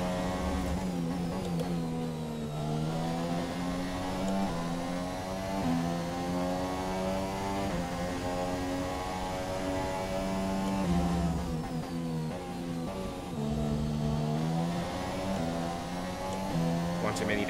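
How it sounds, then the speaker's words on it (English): F1 race car engine in the F1 2017 game, a high-pitched whine that drops through a run of downshifts, steady and loud and close throughout, with the revs stepping down and climbing again and no words spoken over it. "One too many downshifts there."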